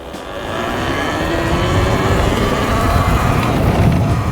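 A Talaria Sting electric dirt bike with upgraded front suspension forks being ridden, giving a loud, steady whirring drive noise with wind rush that builds slightly over a few seconds.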